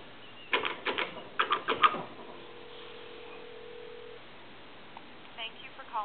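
Touchtone keypad dialing on an A&E three-slot payphone: a quick run of short, crisp beeps in two clusters, then a steady tone for about two seconds and a few faint later sounds.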